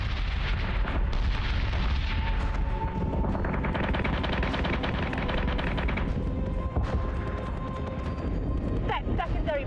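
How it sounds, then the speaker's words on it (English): Ship weapons firing in the space combat game Battlestar Galactica Deadlock, a dense continuous barrage of cannon and battery fire with booming impacts filling the whole stretch, loud and sustained under game chatter. "Firing on target."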